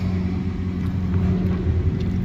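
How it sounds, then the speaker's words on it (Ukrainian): A car drives off past a rural village yard, a steady low engine rumble with a slight rise as it pulls away, fairly close and constant throughout with no talk. "поїхала машина"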